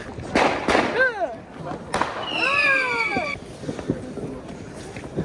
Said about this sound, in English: everyone here has got fireworks